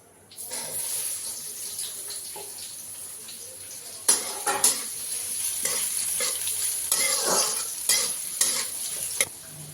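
Onions frying in a pan while being stirred, with a steady sizzle and repeated scraping, clattering strokes of a spoon against the pan throughout, close and fairly loud, with no talking.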